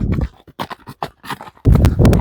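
Shod horses clop their hooves in an uneven series of sharp strikes, close and loud, with short pauses and then a denser, heavier burst of hoofbeats at the end.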